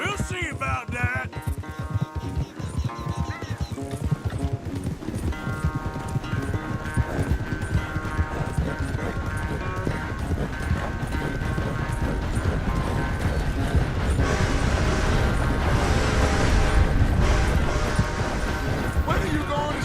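Horse hooves galloping during a race in a video game, a rapid steady clip-clop running under music and voices that builds louder toward the end.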